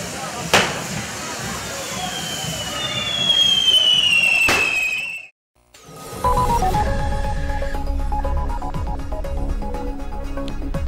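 Fireworks at a correfoc festival, where devils swing fire-throwing devices, give sharp loud bangs and whistling rockets over crowd noise, then the scene cuts to steady music and crowd din.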